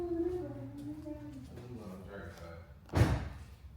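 The car door of a Dodge Hellcat Jailbreak shuts with one solid, close thud near the end, after people talk quietly beside the car.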